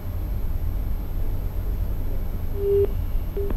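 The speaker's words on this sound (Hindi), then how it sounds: "लगता है इनसे हमारा संपर्क टूट गया है" A phone line tone sounds on a live call-in broadcast after a caller's call drops: two short steady beeps near the end over constant low line hum and hiss.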